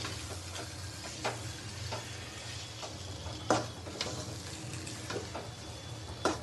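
Semolina halwa with fried cashews and raisins is stirred in a pan, a low continuous sizzle punctuated by sharp spoon scrapes and taps every second or so, close and fairly quiet, with no talking.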